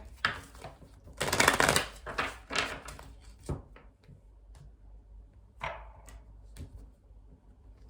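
Several bursts of crisp riffling and card slaps as tarot cards are shuffled, a busy shuffle up front that thins to a few scattered taps and flicks, close by with no talk.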